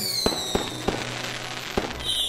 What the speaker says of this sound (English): Why are fireworks different colors?